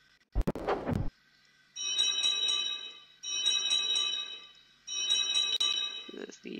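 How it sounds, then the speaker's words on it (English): A bell in the video game BTWF rings in three bursts of bright, rapid ringing separated by short silences, preceded by a sharp knock and followed by a brief low tone. "There's the bell."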